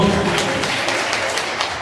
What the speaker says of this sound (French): Il faut les encourager, mesdames et messieurs, applaudissez très chaudement.